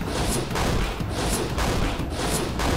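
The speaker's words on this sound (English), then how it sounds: "Eat crossbow bolts and die!" Crossbow bolts fire in a fantasy video game battle, a steady barrage of loud, dense impacts with bright sharp transients repeating about once a second over continuous rumbling game noise.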